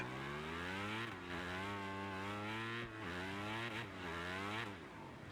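MotoGP 25 racing motorcycle engine screams at high revs in the video game, loud and close, with the pitch climbing through gears and dipping sharply at each shift, heard alone without talking.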